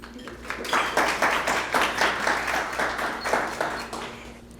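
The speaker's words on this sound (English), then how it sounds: "can we get a hand clap for our panelists?" Audience at a spring graduation brunch claps for the panelists, a steady patter of many hands that rises and swells for several seconds in a room, with faint murmuring underneath.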